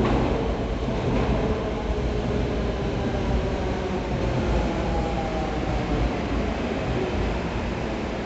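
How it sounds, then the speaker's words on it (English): A train in Malaysia rumbles past close by, a loud continuous roar with rhythmic rail clatter, steady from start to finish. "If a train comes from whichever side, let me know."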